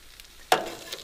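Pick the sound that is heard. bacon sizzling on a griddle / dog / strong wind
bacon sizzling on a griddle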